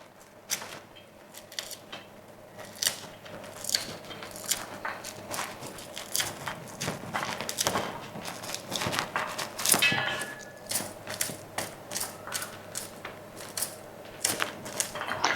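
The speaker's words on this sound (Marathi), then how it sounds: "बघा कसे पटापट असे दाणे निघत आहेत फक्त एकच लाईन सुरीन काढायचे बाकीचे असे पटापट हातात निघतात" Fresh corn kernels stripped off the cob by hand, a quiet close series of dry crackling snaps and rustles in quick irregular bursts, soft and alone without talk.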